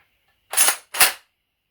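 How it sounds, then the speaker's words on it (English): Two sharp, loud mechanical clacks in quick succession as the bolt hold-open on a Cyma CM 032 M14 airsoft rifle is released and the bolt slams forward, heard close up against silence. "the hold open, you pull the bolt back, push this hold open in, release the bolt"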